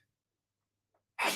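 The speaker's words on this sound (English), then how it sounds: "I'll get that sneeze." Near silence, then a single abrupt sneeze bursts out loudly at the very end.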